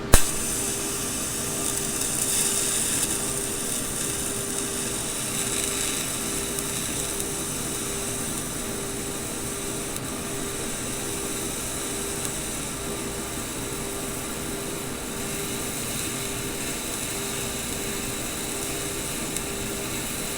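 TIG welding with a skinny filler rod makes a steady, fairly loud hiss and buzz that runs continuously throughout with no talk.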